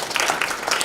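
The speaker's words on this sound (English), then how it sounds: "Let's give a clap." Students at a school meeting break into a short burst of clapping, loud and close, a brief dense patter of hands.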